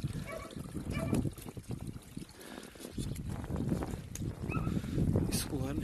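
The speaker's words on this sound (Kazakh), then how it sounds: "су былай кеп жатыр." Water trickles into a metal tub set out for cows during a snowstorm, a steady running dribble heard close by with wind noise and movement around it.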